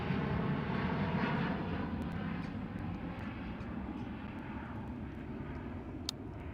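An airliner, an E175, climbs steeply after takeoff from Schiphol Airport, its engine roar strongest at first and then slowly fading into the distance, with a few faint clicks near the end.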